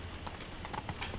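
Hooves of a horse clip-clopping in The Witcher 3 video game, a quiet, steady trotting rhythm of soft repeated hoof strikes, heard alone.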